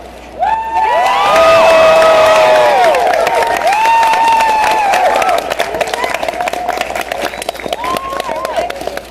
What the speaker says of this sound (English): See the big crowd of people.